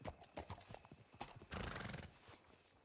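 Hooves of a horse clop in a video game ranch setting, followed by a long, loud whinny, with no speech over it.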